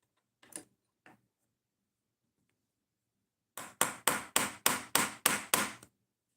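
Hammer taps on a Kershaw knife during assembly: a light tap or two, a pause, then seven quick, evenly spaced sharp strikes close by, with no talking.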